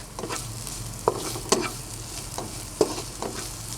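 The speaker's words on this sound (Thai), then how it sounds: "ผัดจนกระทั่งหอมของเราเขาจะสุกนะคะ หอมแดงเราจะสุกก่อน ใช้ไฟอ่อนนะคะ" Shallots stir-frying over low heat for a savory Thai khanom tian filling, a soft steady sizzle with spatula clinks and scrapes at irregular intervals, close and fairly quiet, no speech.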